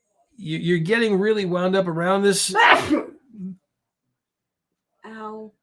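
A single sharp sneeze bursts out right after a stretch of speech, followed by a short pause and another brief spoken word, all close and clear.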